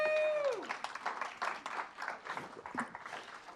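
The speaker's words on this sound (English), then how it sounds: "Let's clap." After an online education presentation, a small group claps in scattered, uneven bursts, fairly faint and thin. A single voice tails off at the start.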